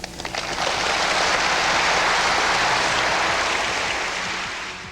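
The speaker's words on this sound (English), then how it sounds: "The applause he gets at the end is what you'd expect a rock star to get at the end of a concert" A large audience applauds Pons at the end of his talk, with dense, sustained clapping that swells to a loud roar, holds steady, then fades slightly toward the end.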